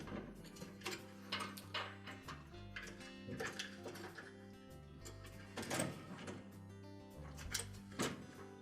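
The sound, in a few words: new Whirlpool washer door lock latch being installed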